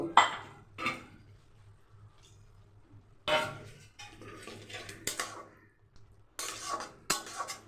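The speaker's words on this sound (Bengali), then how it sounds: "আমি আরেকটু বাটিটা ধুয়ে দিই, কারণ এখানে না অনেক মশলা লেগে আছে" A bowl caked with leftover cashew and poppy seed spice paste is washed by hand, giving a few short clattering, splashing bursts separated by quiet stretches, fairly soft and close.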